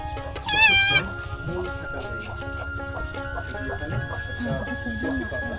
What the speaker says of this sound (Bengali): ছাগলের ছোট ছোট বাচ্চা, এগুলো বয়স মনে হয় 1 সপ্তাহ হয় নাই